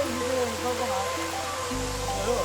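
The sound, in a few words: waterfall flowing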